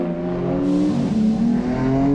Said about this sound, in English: I was strapped into the M4 GT4, and before I knew it, it was my turn to go out on circuit.